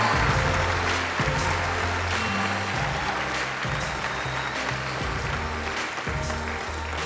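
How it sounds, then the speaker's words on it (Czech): A large audience at the Miss Czech Republic 2022 final claps for the ten finalists, dense sustained applause under loud stage music. "jeden velký aplaus pro finálovou desítku Miss Czech Republic"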